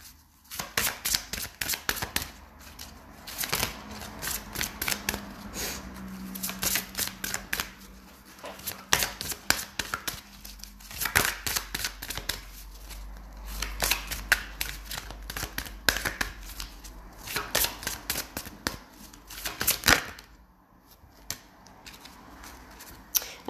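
Tarot cards are shuffled and drawn by hand at close range, giving repeated riffling and slapping clicks in uneven bursts with short pauses, steady throughout and moderately quiet.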